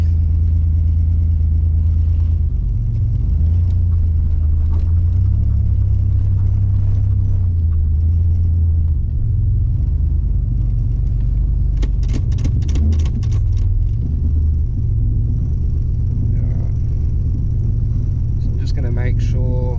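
A turbocharged V6 VN car engine running near operating temperature while reversing, a loud steady low rumble with slight rises and dips, a few clicks and light mechanical noise, and someone talking over it.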